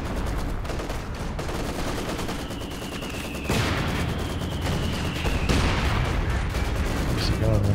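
Mortar and artillery fire in the real-time strategy game Company of Heroes 2 sound as repeated booms and bursts of gunfire over a dense battle din. A whistling shell comes in and lands loudly partway through.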